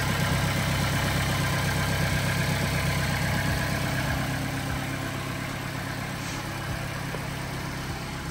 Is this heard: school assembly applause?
no